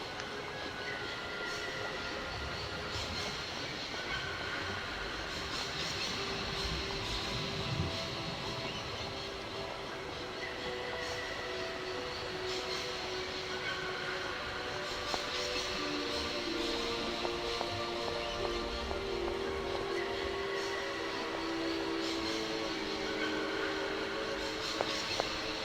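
A train ride in the video game Syberia produces a continuous rumbling carriage drone with faint rhythmic clatter and tonal hums, steady and moderate throughout.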